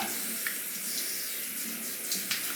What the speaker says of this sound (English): Let me rinse up